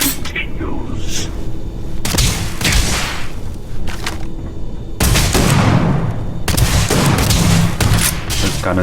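Gunfire in the space game Starfield, loud repeated bursts of shots and booming impacts filling the whole stretch, with a few short gaps between volleys and a voice speaking over parts of it.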